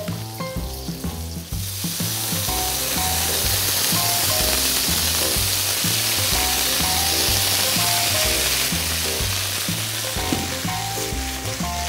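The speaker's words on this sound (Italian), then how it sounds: "andiamo a mettere la nostra indivia all'interno della padella" Chopped endive sizzles and fries steadily in a pan alongside toasted pine nuts, a loud continuous crackle with background music and no talking.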